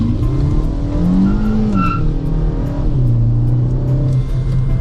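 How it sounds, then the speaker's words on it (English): A Kia sports car's engine and exhaust give a deep, steady rumble while driving, loud and continuous, with pitch rising and falling slightly as the throttle changes. "you also get a deep rumble from the exhaust"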